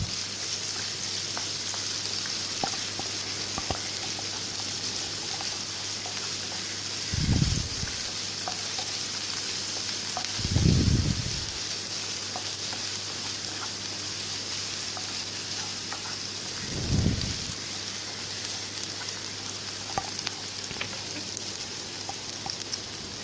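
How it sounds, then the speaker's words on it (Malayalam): Chopped onions sauté in a pan with a continuous sizzling hiss, and three brief, louder bursts come from stirring across the stretch. "നമുക്ക് സവാള അതിലേക്ക് ഇട്ട് കൊടുക്കാം. നന്നായിട്ടൊന്ന് ഇളക്കി വഴറ്റിയെടുക്കാം."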